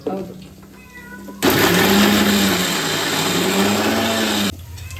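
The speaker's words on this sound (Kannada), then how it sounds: "ಮಿಕ್ಸಿ ತೆಗಿತಾ ಇದ್ದಾರೆ ಇವಾಗ ಇದು ರುಬ್ಬಕ್ಕೆ" A kitchen mixer grinder grinds spice paste for a festive chicken dish, roaring loud and steady for about three seconds with a whining motor tone, while people talk before and after it runs.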